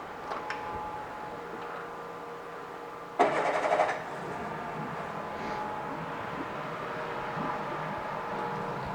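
A 1999 Evinrude 50hp four-stroke long-shaft remote outboard motor cranks briefly with a sharp burst, then catches and settles into a quiet, steady idle, heard close with no talking.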